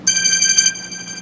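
A mobile phone gives off a short, loud electronic tone with bright, steady harmonics, lasting about a second before fading slightly.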